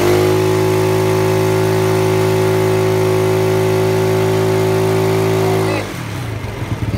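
A Yamaha Mio Sporty motorcycle engine, lacking power, runs loud and steady at high revs, then abruptly drops off to a rough idle near the end.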